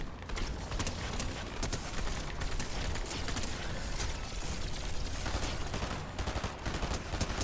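Automatic rifle fire in the video game Fortnite, a dense continuous rattle of rapid shots mixed with game effects, loud and unbroken throughout.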